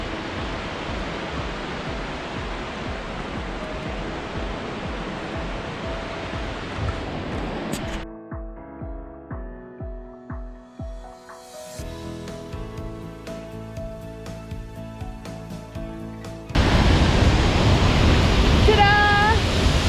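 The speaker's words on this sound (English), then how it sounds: "Look! I found the waterfall!" Falls Creek Falls waterfall gives off a steady broadband rush that suddenly cuts to a quieter stretch of knocking and clicking handling sounds, then the loud rushing water returns close for the last few seconds.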